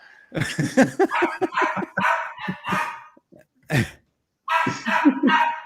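A dog lets out a string of drawn-out, voice-like yowls and barks, close and fairly loud, in several bursts with short pauses, during an Alabama football talk show.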